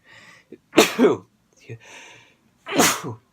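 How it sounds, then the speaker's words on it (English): Two abrupt, forceful sneezes a couple of seconds apart, close to the listener, with faint breathy sounds and a quiet vocal murmur between them. "I'm about to sneeze."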